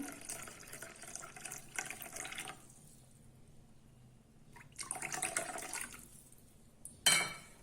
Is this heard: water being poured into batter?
yes